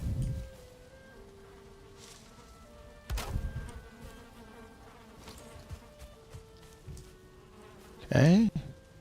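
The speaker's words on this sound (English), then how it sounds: "Don't usually have so many bees this early in the game." Bees swarming along a back fence hum as a faint, steady drone, with a few louder buzzes passing close, including one loud buzz near the end.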